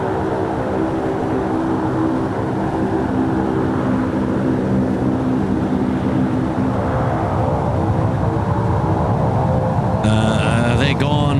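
Aircraft taking off from runway 16 right at Sydney Airport, a steady broad engine roar that holds throughout with low rumbling tones, joined near the end by a higher whine.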